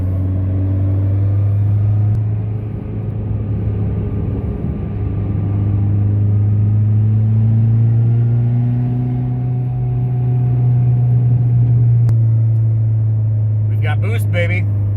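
Turbo PT Cruiser GT engine pulls hard under boost, a loud, close, droning low rumble whose pitch slowly rises and dips across the run, with a voice breaking in briefly near the end.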